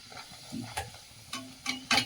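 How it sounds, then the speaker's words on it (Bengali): Kachori frying in hot oil, a low sizzle broken by a few sharp spoon scrapes and clinks against the pan, close up over about two seconds with no talking. "এই দেখো কচুরি ভাজা তো শুরু করে দিয়েছি, এই যে ভাজছি কচুরি"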